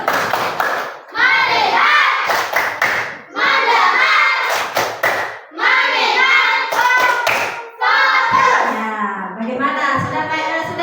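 Primary school teachers clap a rhythmic focus-clap pattern in short bursts, with a group of voices chanting along between the claps in a classroom.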